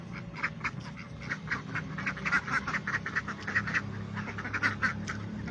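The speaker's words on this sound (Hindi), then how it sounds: "ये बत्तख आ गई।" Repeated quacking from a flock of eleven village ducks, steady overlapping calls at moderate distance with a low background rumble.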